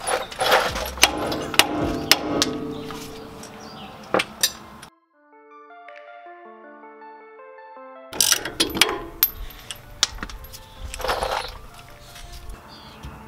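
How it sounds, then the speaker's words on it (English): On a Tacoma spindle, a hammer strikes the ball joint in a scatter of sharp metallic knocks and clinks, loud and close, with a quiet musical break in the middle before the hammering resumes. "let's see if we could knock this ball joint loose by taking a hammer and hammering this part of"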